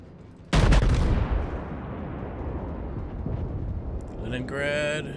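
A heavy naval gun salvo in World of Warships booms loudly once and rolls off into a long rumbling decay, with fainter shots and engine noise continuing behind, and a voice briefly audible near the end.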